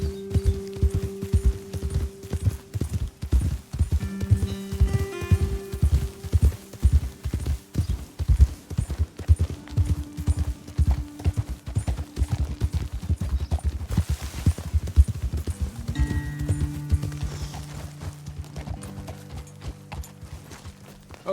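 Horses in a video game walk and trot along a trail, rhythmic clip-clopping hooves continuing steadily and close for the whole stretch, with faint mechanical rattles and no talk.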